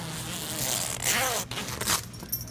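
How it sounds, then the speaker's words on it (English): Canvas zippers on a Bennington QX pontoon boat's tower bimini being undone, two quick close rasping zips in a row with light handling noise between. "So now we can come and undo the zippers from the front of the tower."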